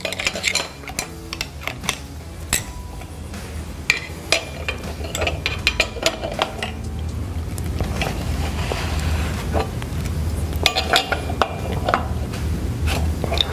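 Two wrenches work on a pipe severing tool housing, one holding it while the other tightens the spanner, giving sharp metallic clinks and scrapes in an irregular rhythm over a low background rumble.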